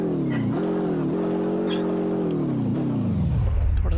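Steady, loud car engine revving in a road-driving video game, the pitch climbing and dipping with several gear-like shifts before falling to a low rumble near the end, with no talking over it.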